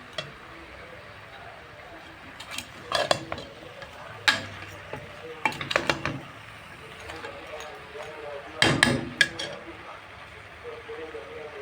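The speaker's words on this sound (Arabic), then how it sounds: "قلبي كده، تديها كام تقليبه كده" Spices being stirred and fried in a pot for shrimp soup, scattered scraping and clinking of a utensil against the pot in irregular bursts over a faint background, while someone talks.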